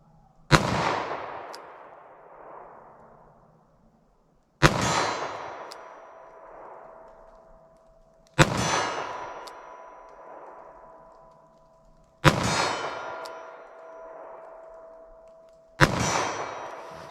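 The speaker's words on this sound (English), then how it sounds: "I'm going to test it single action, see if I get a headshot at 25 yards with this revolver." Five loud single gunshots from a Taurus 856 .38 Special revolver fired single action at a 25-yard target, each a sharp crack with a long ringing decay, spaced about four seconds apart with no talk.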